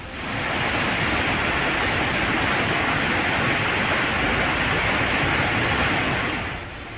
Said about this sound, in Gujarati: નદીમાં ઘોડાપૂર આવતા નદી પર બનાવાયેલો નવો લો લેવલ બ્રિજ પાણીમાં ગરકાવ થઈ ગયો